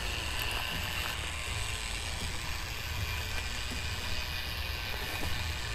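Motors of a homemade tracked robot drive it over rough ground in a steady, continuous rumble and mechanical whir with faint scraping, close and fairly loud throughout, with no talking.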